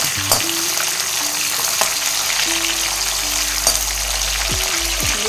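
Chopped onions sizzle and crackle steadily in a hot pan, a dense frying hiss with occasional sharper pops and the scrape of stirring.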